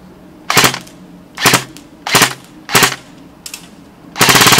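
KWA KM4A1 airsoft rifle firing six sharp bursts of rapid shots, each lasting a fraction of a second and separated by short pauses, with the final burst the longest; loud and close, with no talking.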